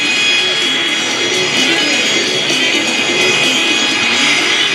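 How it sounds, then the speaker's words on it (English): Steady growling drone of 600-horsepower Pratt & Whitney radial engines on warbird airplanes at an airshow, loud and continuous with no break. "That growling sound you heard from the engine"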